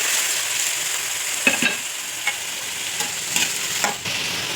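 Chickpea sundal frying in a pan, with a constant close sizzle and a few scraping stirs of a spoon against the pan breaking through at intervals.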